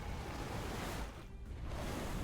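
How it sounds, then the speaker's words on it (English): A boosted tsunami water attack in the Temtem video game gives a loud, steady broadband rush of surging water that dips briefly mid-way and then swells again, with no voices. "Oh, we have a boosted tsunami"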